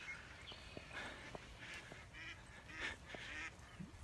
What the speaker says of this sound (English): The mallards are doing spring things, so they're all excited